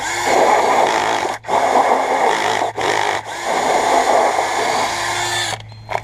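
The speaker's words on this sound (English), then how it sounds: "now we're going to come back with the hole saw and drill holes" A steady, grinding power-drill whine as a hole saw drills through cardboard in a garden, running continuously close by, broken by a few brief pauses before stopping near the end.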